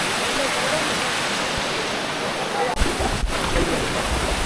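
A waterfall in Chattogram, Bangladesh, roars with a loud, continuous rush of falling water from close by. The sound is a dense, unbroken wash with a couple of brief bumps partway through.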